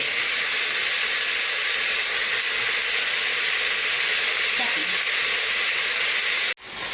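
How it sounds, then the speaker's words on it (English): Oxtail browning in a pot gives a steady, close hiss of sizzling fat and steam that holds constant throughout, then cuts off briefly near the end before returning. "I'm allowing it to just get brown and just steam a little before I do anything"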